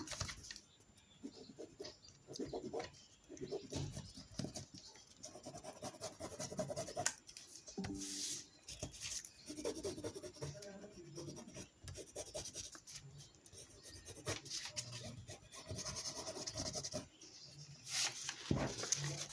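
A pen or pencil traces around a sewing pattern laid on fabric, a close, faint scratching and rubbing in short irregular strokes with small pauses.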